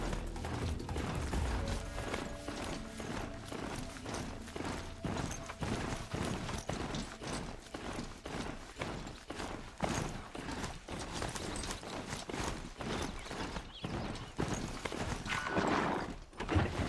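Mechanical horse-like machines stride along in Horizon Zero Dawn, their metallic hooves clopping in a steady, even rhythm mixed with clanking, ratcheting gear noises, continuous and moderately close throughout.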